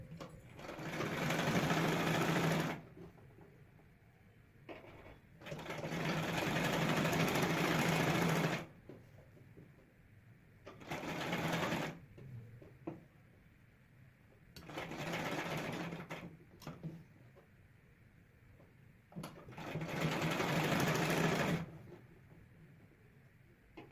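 A sewing machine stitches a net collar blouse in five loud, close bursts of rapid whirring, each a few seconds long, separated by brief quiet gaps.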